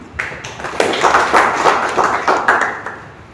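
Audience clapping at a Bahujan Samaj Party political speech in Maharashtra, a burst of hand claps from a crowd, fairly loud and close, rising quickly and holding steady for a few seconds before tapering, with no talk over it.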